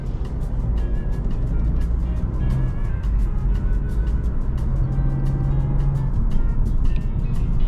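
A 2022 Honda Civic Hatchback Sport Touring engine hums steadily while driving, a continuous low rumble blended with road and cabin noise at an even level throughout, with no talking.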